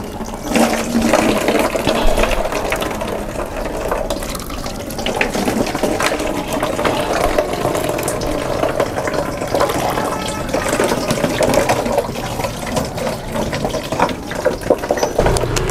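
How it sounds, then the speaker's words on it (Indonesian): Fermented sapodilla microbial liquid is strained from its pulp, giving a steady run of pouring, trickling liquid that stays continuous and fairly loud throughout, with no talk. "mol sawo kita sudah saya saring"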